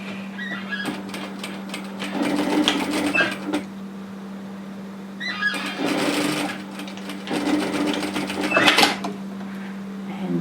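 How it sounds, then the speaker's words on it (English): A sewing machine stitches a short seam on a bomber-style varsity jacket in quick whirring bursts, separated by pauses, with a steady low hum running throughout. "we're going to stitch just a short way at 1 centimeter, 3/8 of an inch"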